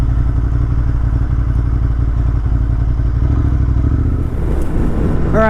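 Motorcycle ridden along Idaho roads in fall, a loud, steady engine drone with wind rumble close to the rider throughout, and a brief rising whine near the end; no talking.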